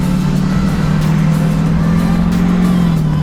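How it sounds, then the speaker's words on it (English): A truck swapped to a Duramax diesel engine merges onto the highway, its steady droning engine loud and close with a slowly shifting pitch under continuous road noise. "Boys, we're getting on the highway."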